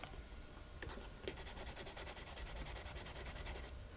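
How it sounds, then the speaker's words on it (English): A steel burnisher rubs and presses across a mezzotint printing plate, making soft, faint scraping strokes that turn into a steadier rhythmic rubbing after the first second. "you take your burnisher and improve on it by really pressing down anything else that's still sticking up"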